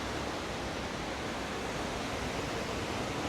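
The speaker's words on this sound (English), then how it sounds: "See the river down there anyway. You can certainly hear it roaring." A river roars below a hiking trail near the Reichenbach waterfalls in Switzerland, a dense, constant broadband rush of water with no breaks, steady and fairly loud.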